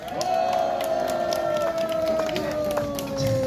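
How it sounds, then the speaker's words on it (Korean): A crowd cheers and claps steadily throughout, mixed with a sustained tonal hum and scattered whoops. "박수 한번 주세요."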